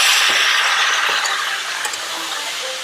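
Raw jackfruit sautéing in a pan with salt, Kashmiri chilli powder and a splash of water, a steady close sizzle with light stirring scrapes and clinks, no talking.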